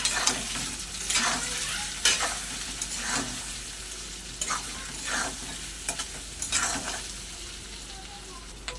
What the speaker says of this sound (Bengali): লবণ একটু ভালো করে কষে নেব